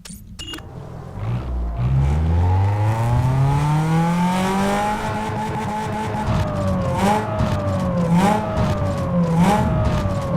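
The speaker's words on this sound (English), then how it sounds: "I don't like hearing the rev limiter." Car engine in Need For Speed Underground 2 revving up through the gears and bouncing off the rev limiter in a rapid stuttering pattern, loud and close, with tire noise underneath.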